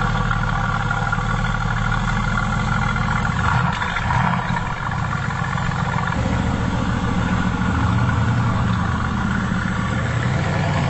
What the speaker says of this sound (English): start this car up, and I suppose go for a first drive